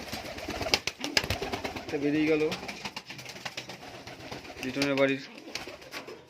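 Fancy pigeons coo in two short, throaty bursts a few seconds apart, close by, while people talk throughout.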